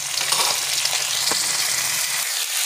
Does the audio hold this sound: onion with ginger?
yes